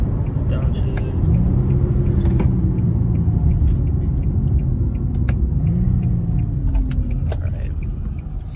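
An Infiniti G37 driving at speed gives a loud, steady engine rumble with the pitch rising and dropping through shifts, joined by jangling keys and someone talking throughout.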